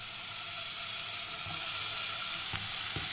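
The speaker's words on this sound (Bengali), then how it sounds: "এই মাছ ভাজার তেলে আমি প্রথমে বেগুনটাকেও একটু হালকা করে ভেজে নেব" Eggplant fries gently in oil left over from frying tangra fish, a steady soft sizzle with a few light taps from a spatula or pan.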